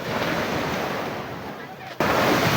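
Sea waves wash steadily onto a beach during a students' beach cleanup, a continuous rushing surf with wind buffeting the microphone, briefly dipping before surging back loud.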